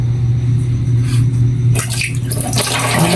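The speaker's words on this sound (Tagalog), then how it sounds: "Maghuhugas muna ako ng plato." Dishes washed under a running kitchen tap, a steady loud stream of water with rinsing splashes and clatter rising partway through, close and continuous without speech.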